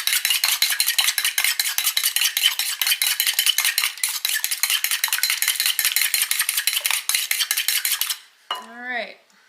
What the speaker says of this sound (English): I have an egg that I started beating